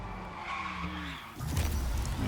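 A Porsche Taycan's tires screech in a brief skid during a race in Test Drive Unlimited Solar Crown, a loud squeal giving way to rougher road noise and motor whine, with no talk.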